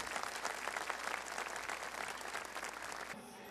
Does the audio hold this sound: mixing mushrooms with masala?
no